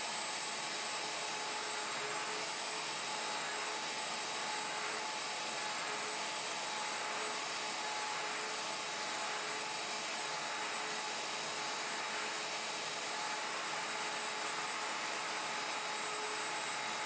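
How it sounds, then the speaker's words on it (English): Plunge router cutting the rear mortise on a Leigh FMT Pro mortise and tenon jig, a loud steady high whine with a broad cutting hiss that runs unbroken for the whole stretch. "Lock the table and route the rear mortise."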